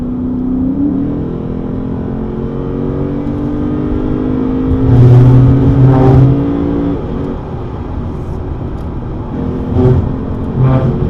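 A 2020 Lexus GS F sports sedan engine hums steadily at 3,000 to 4,000 revs, then rises as it accelerates, with a few brief thumps and road noise; no talking.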